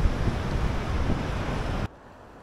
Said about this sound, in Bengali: পিছনে চান্ডিল ড্যামের গেট, লকেট দিয়ে জল বেরোচ্ছে।